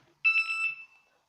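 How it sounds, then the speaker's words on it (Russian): A wireless siren for a Strazhnik SOKOL car alarm system gives one short, loud electronic tone burst of under a second, close and clear, then cuts off into silence with no voices. "Получается, включаете сирену."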